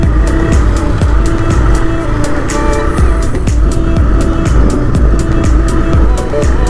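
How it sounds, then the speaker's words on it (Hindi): Car pulling away from a red light in dense city traffic, heard from a motorbike: steady loud engine and road rumble with repeated sharp ticking clicks running throughout, no talking. "ये कार वाले को ज़्यादा जल्दी हो रही, इसे जाने दो पहले"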